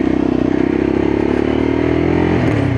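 A Lexmoto LXR 2024 motorcycle engine on a test ride, a loud steady hum and buzz held close throughout with rattling texture and a slight rise in pitch near the end.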